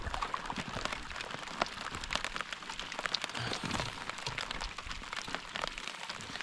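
Steady rain patters densely on surfaces nearby, a constant crackling hiss with no voices.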